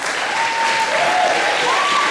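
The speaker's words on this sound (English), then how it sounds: "And another round of applause, please," Sustained audience applause for performers at a variety show, a dense steady wash of many hands clapping throughout, with no talk over it.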